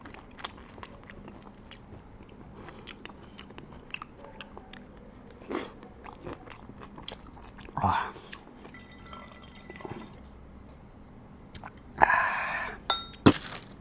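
Raw beef liver eaten with a sesame oil dip, faint wet chewing and biting with scattered clinks of utensils against a dish and a few louder slurping bursts near the end, all close up in a quiet room.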